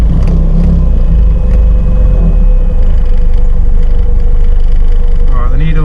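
Classic Mini named Daisy driving with its engine running and an extra fan switched on, a steady close rumble under continuous talk.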